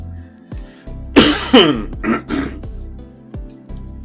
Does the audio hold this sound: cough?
yes